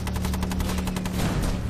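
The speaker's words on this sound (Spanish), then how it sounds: "Los intensos disparos alemanes son devastadores." Intense German gunfire in a World War II battle: rapid, evenly spaced bursts like a machine gun, loud and continuous over a dense rumbling background.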